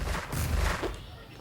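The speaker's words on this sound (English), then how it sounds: "Some explosions happening" Explosions in the video game Diggy's Adventure: a brief, muffled burst of booming blasts that fades quickly.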